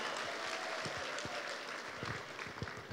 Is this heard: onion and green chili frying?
no